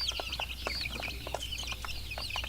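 Young chicks and growing chickens cluck and peep in quick, overlapping high calls over a low farm hum, a busy flock close by with no voices.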